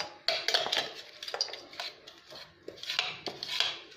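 Finely ground chocolate biscuit powder is tipped from a grinder jar into a bowl, making soft rushing pours punctuated by close clinks and scrapes of the container against the bowl, with no speech.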